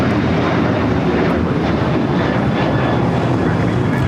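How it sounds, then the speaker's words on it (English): An American Airlines Boeing 737-800 takes off at LAX, its engines a loud, steady roar mixed with wind buffeting on the microphone, constant throughout with no break. "American Airlines 1899 taking off to Indianapolis on the 737-800."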